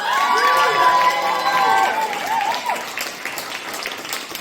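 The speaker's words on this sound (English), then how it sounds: "so a big round of applause!" A Comic Con panel audience applauds and cheers for Jo Martin; crowd noise is loud at first with tonal shouts and whoops over it, then thins to a lighter, steadier clapping.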